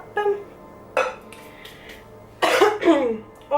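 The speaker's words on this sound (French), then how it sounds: "Ensuite je tousse." A few short coughs ring out close by, with a voice and light kitchen clinks in between.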